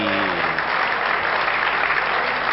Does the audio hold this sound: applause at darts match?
yes